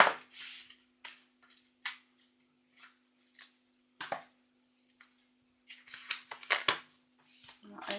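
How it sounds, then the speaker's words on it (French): A craft cutter trimming excess card and 3D foam tape on a handmade shaker card, heard as scattered short scrapes and clicks at close range, separated by quiet gaps, with a faint steady hum underneath. "avec le cutter on coupe l'excédent"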